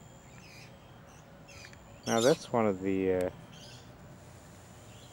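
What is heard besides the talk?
noisy miner birds calling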